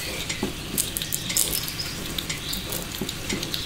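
A frying pan sizzles steadily, its continuous crackle broken by scattered bright spits and pops, close up with no one speaking.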